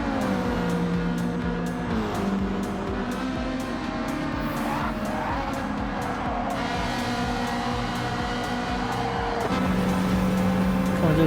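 A BMW Supra race car in Gran Turismo 7 on a high-speed ring, its engine droning steadily at high revs with rising and falling pitch through gear changes, loud and close throughout, slipstreaming another car.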